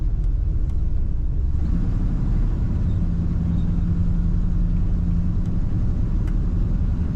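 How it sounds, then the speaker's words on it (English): A 1975 Chevrolet Silverado truck idles with a steady, deep rumbling exhaust, its engine running evenly and close by with no voices. "Awesome exhaust sound."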